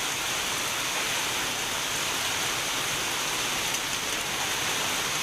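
Heavy storm rain pours steadily and loudly, a dense unbroken roar of water with no voices.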